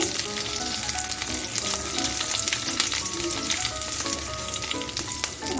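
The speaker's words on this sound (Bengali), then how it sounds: "কারি পাতা কিছু দিয়ে দিচ্ছি সব কিছু তিরিশ সেকেন্ডের মতো ভেজে নিচ্ছি" Curry leaves and spices frying in a pan give a steady, dense sizzle with crackles and pops, close and loud throughout, with no voices.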